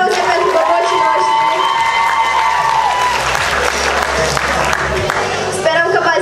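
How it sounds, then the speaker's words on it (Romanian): An audience at a 2019 freshmen's ball applauds and cheers for the new students, loud continuous clapping mixed with shouts and whoops from the crowd throughout. "aplauze pentru bobocii noștri, să-i încurajăm!"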